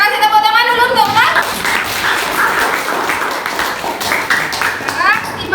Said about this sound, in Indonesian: Ya, kita kasih tepuk tangan dulu untuk Wulan.